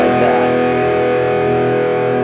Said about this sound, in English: slam the front end of this in distortion mode